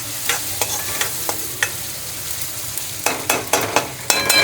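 Bitter gourd curry with crushed peanuts is stirred in a pan, a spoon scraping in a string of short clattering strokes over a faint sizzle, bunching into quick repeated scrapes near the end.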